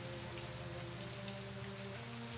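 Light drizzle falling in the video game And Then There Were None, a steady, even hiss of rain on surfaces with a low constant hum beneath, unbroken and alone without voices.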